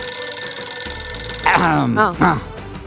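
A telephone rings with a steady, repeating electronic tone throughout, while a voice speaks over it partway through.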